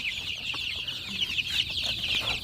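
Young chicks peep in a continuous high chorus of overlapping chirps nearby, steady throughout with a faint background rumble.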